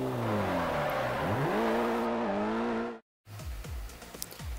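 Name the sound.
car drifting around a corner in Forza video game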